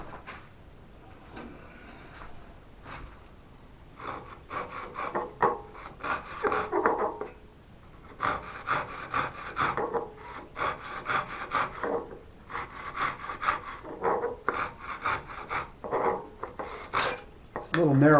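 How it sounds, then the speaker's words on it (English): A small tenon saw works through an ash gouge handle in short, irregular rasping strokes, fairly quiet and close, with brief pauses between bursts of cutting. "I'm going to use my little tenon saw to finish it."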